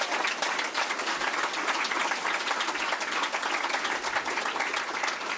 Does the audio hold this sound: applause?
yes